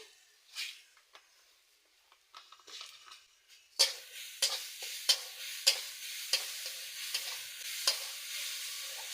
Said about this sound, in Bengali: নারকেল কুড়ো বানিয়ে নিচ্ছি কড়াইতে দিয়ে দিচ্ছি এবার চিনি দিয়ে দিচ্ছি